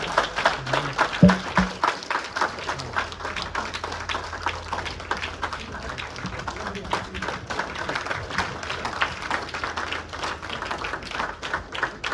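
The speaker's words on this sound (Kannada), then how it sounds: "ಚಪ್ಪಾಳೆ ಜೋರಾಗಿ" An audience claps at an inauguration ceremony, with a steady patter of hands going on at a moderate level while voices talk over it.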